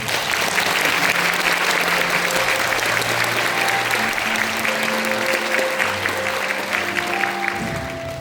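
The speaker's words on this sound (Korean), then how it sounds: "오랜 시간 한반도 평화를 위해 힘써오고 계신 부회장님을 여러분의 박수로 모시겠습니다." Steady, loud audience applause at a Korean peace-themed music talk concert in a hall, welcoming a former lawmaker and vice-chairman to the stage, continuing unbroken for about eight seconds with faint tonal music underneath.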